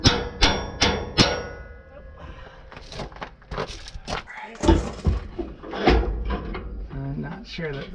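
Shackle hanger bolts being hammered into place: a few sharp metallic blows at the start, then scattered knocks and clunks while people talk throughout.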